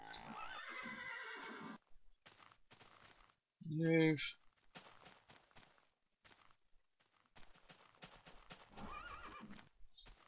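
A horse in the Minecraft video game gives one loud whinny in the middle, surrounded by steady clip-clopping hooves and game footsteps, while someone talks briefly.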